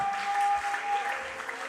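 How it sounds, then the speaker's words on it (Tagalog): A church congregation at a preaching service breaks into loud, steady clapping, a dense, even patter filling the room for a brief stretch with no voice over it. "ay pumalakpak muna ng malakas na palakpak"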